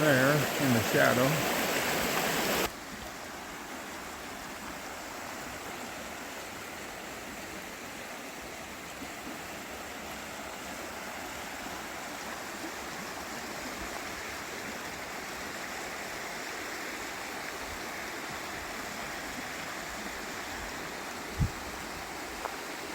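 A creek runs steadily outdoors, a continuous rushing, hissing flow heard close and unbroken after a brief louder opening burst.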